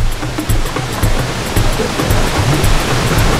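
Matigol Falls in Arakan roars as a steady, loud wash of falling water at close range, a dense continuous rush with no pauses and no voices.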